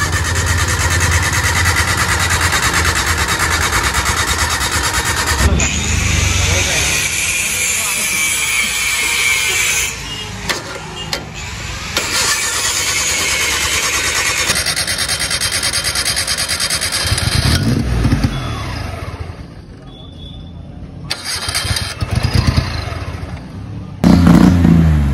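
An 800cc motorcycle engine starts and revs nearby after refuelling, with a steady loud mechanical roar broken by rising bursts and a brief dip toward idle, while voices are heard faintly.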